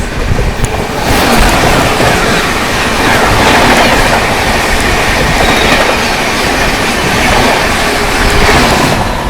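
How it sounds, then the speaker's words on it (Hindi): The Bandra Terminus–Barauni Awadh Express rushes past at close range, a loud continuous roar of rolling wheels and clattering coaches that fills the whole stretch without any voices. "सामने से आ रही है बांद्रा टर्मिनस बरौनी अवध एक्सप्रेस।"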